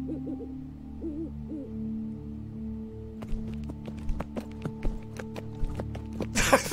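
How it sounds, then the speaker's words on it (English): Horse hooves in the video game Witch Hunt: a run of sharp clip-clop hits starting a few seconds in, fairly close and steady, over a sustained game music drone with hooting owl-like tones early on. "I thought that was the sound of an owl flapping its wings was a horse's hooves."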